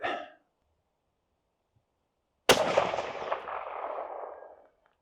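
A single loud rifle shot from a Christensen Arms Ridgeline .30-06 firing 150-grain copper bullets, a sharp crack followed by a long rolling echo that fades over about two seconds, preceded by a brief faint sound.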